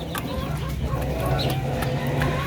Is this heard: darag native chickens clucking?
yes